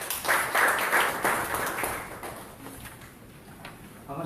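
A seminar audience applauds in a hall, a dense burst of clapping that is loudest at the start and then thins and fades over a few seconds.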